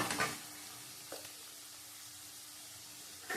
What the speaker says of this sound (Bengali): দেখো আলুটা ভাজা হয়ে গেছে।